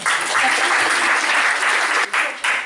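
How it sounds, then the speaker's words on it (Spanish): A short burst of loud audience clapping at a university lecture, dense and continuous, dipping briefly before picking back up. "Otro aplauso."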